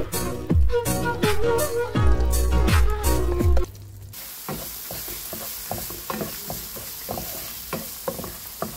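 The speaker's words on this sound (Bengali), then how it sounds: "এগুলো দিয়ে আমি সুন্দর করে ভেজে নেব" Cumin, dried chillies, bay leaves and cinnamon fry in hot oil, first with loud repeated stirring and scraping strokes in the pan, then settling into a steady, softer sizzle with small crackles.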